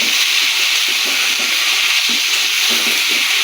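Pigeon meat with potato, turmeric, salt and ginger paste sizzles loudly and steadily in a pan over medium heat, with soft scraping stirs breaking through the hiss.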